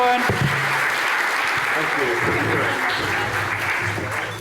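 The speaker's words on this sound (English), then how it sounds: "Round of applause again." Conference audience applauding steadily at a Go programming conference in Europe, a dense, sustained clapping wash with a person speaking briefly over it.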